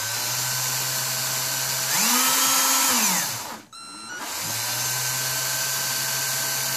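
A Porter Cable drill spins a plain steel shaft held in its chuck, giving a steady motor whine that swells for a few seconds, stops briefly, then starts up again and runs on at an even pitch.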